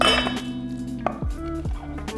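Crumbled tofu feta scraped and tipped from one bowl into a bigger bowl, with a few light clinks and knocks of the dishes and a spoon, quiet and close.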